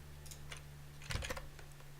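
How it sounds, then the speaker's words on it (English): Faint computer keyboard typing, a few scattered soft key clicks and then a brief quick burst of louder keystrokes over a low steady hum, with no talking. "The keyboard's louder, voice is the same."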